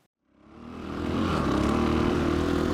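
A 2018 Husqvarna FE 501 or KTM 500 EXC-F dirt bike engine starts up and revs, swelling from silence into a steady, buzzing drone held close and loud.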